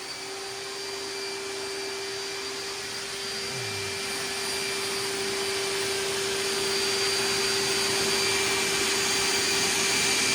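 Hoover wet/dry vac running over flooded carpet, a steady loud whine with a constant tonal hum and broad airy roar, close and continuous, rising slightly in level.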